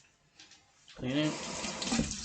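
Tap water runs into a sink during bathroom cleaning, starting abruptly after a quiet second and then flowing steadily and moderately loud, a rushing splash while a cloth is rinsed under it.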